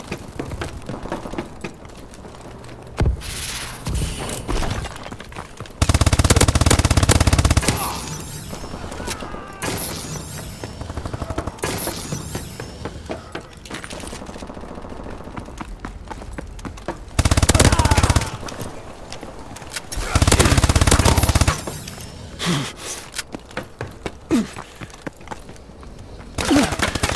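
Loud gunfire and explosions in Call of Duty: Advanced Warfare multiplayer, with sustained bursts of automatic fire and heavy blasts alternating with quieter stretches of scattered shots and game effects.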